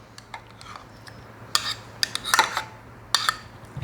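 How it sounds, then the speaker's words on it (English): Bread pudding mixture with softened butter is stirred in a bowl, giving a few scattered scraping clinks of a spoon against the dish, with a louder run of clatter midway and another near the end. "And I'm going to stir that up really well."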